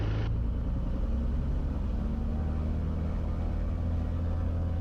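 A Beechcraft piston aircraft engine runs steadily at 1700 rpm during a pre-flight run-up, a constant droning rumble heard from inside the cabin with no talk.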